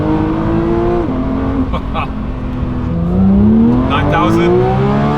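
A Porsche 992.2 GT3 Touring's engine rises and blips through downshifts on a road drive, with loud, close revving, several quick throttle surges and a sharp climb in pitch near the end.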